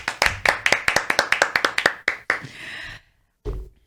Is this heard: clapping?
yes